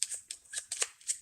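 A deck of cards for the Space Race board game is shuffled close up, a quick series of about six crisp riffling snaps within a second and a half.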